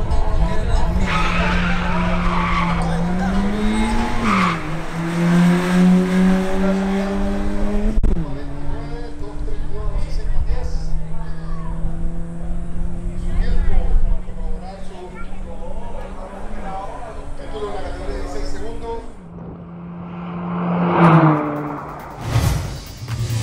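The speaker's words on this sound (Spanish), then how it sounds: "Yamil Varona en su Nissan Sentra V13 realiza su pasada para consolidarse como el campeón de la categoría de autos de 16 segundos" A Nissan Sentra V13 makes a quarter-mile drag race pass in a 16-second car class, its engine revving and climbing through gears with tire skid, loud and continuous under steady commentator talk.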